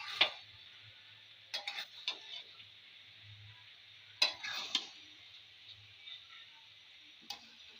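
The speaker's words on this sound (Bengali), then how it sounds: "এবার একবার নেড়ে দেবো।" A spoon stirs chicken curry and pulao in a cooking pot, giving a few scattered scraping and clinking strokes over a faint, quiet background, with no talking.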